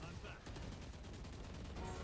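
Rapid automatic gunfire sprays in the Valorant video game, a dense burst of shots under excited esports commentary that carries through the whole moment.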